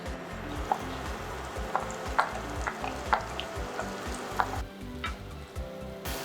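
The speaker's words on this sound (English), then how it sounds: "Only add your leeks when the oil is hot." Leeks saute in hot olive oil in a pan, giving a continuous close sizzle and crackle with occasional stirring clicks and scrapes.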